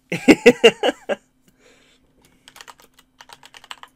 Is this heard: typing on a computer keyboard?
yes